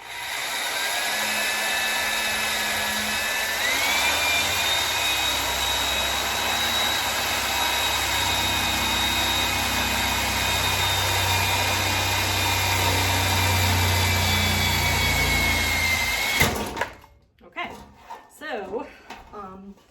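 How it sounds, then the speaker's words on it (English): A power drill whines steadily at high pitch for a long stretch while drilling through an IKEA Milsbo metal cabinet, then abruptly stops as it catches on the metal, leaving brief rustles and clatter afterward. "the drill actually caught on the metal here"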